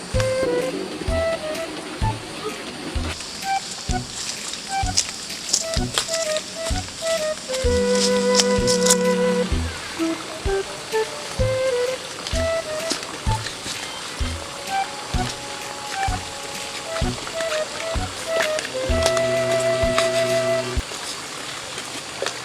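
Steady rain falls outdoors with a dense, continuous patter and rhythmic drips. People talk intermittently over it, and a few brief tonal sounds rise above the wash.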